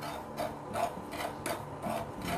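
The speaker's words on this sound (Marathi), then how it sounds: "फ्रायपॅन गरम झालेला आहे, गॅसची फ्लेम लो ठेवली आहे। अगोदर खसखस भाजून घेते।" Poppy seeds are dry-roasted in a frying pan over a low gas flame, giving a soft, steady scraping and rasping with a regular stirring rhythm of about two strokes a second, faint and close.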